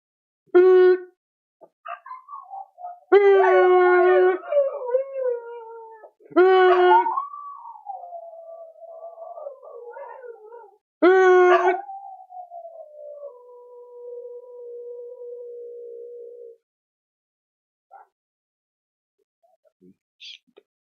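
A dog howls in long, wavering, rising and falling cries, several drawn-out bursts near and fairly loud, during an NFL game watch party after a Buffalo Bills touchdown against the Rams.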